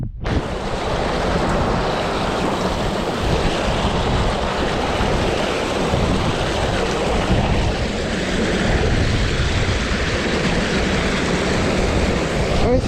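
Salt water surging in at a shore channel where a fishing net is being cast, a steady loud wash of surf and flowing water with wind buffeting the microphone, continuous throughout with no talk.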